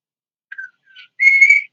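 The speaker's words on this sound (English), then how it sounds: "who's got a bird whistling?" A pet bird whistling nearby, giving a few short, clear whistled notes and ending on a longer, louder note, with silence in between.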